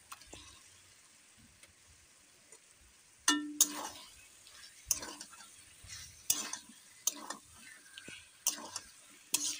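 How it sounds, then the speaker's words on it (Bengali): Raw chicken, 500 g, goes into a cooked-down red spice masala for a spicy Bengali chicken curry and starts to sauté: a sudden loud sizzle, then intermittent stirring scrapes and spoon clinks recurring up close. "মধ্যে আমরা 500 গ্রাম পরিমাণ চিকেনটা অ্যাড করে দেব।"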